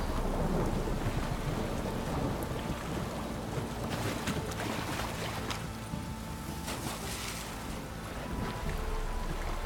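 Thunderstorm with steady heavy rain in the video game The Witcher 3: Wild Hunt, a dense continuous downpour with rolling thunder rumbles swelling through it, loud and close, with no talk.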